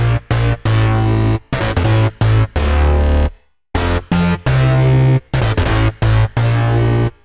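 Choppy synthesized future house bass notes play in bursts with sharp gaps, loud and heavy, sliding and wobbling in tone, with no voices.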